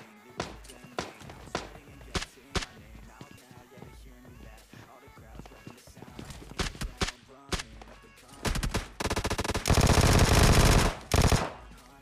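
Bursts of automatic gunfire from a Vector submachine gun in the mobile battle-royale game PUBG Lite, scattered single shots and footsteps early on, then loud sustained rapid fire near the end, with a voice talking over the action.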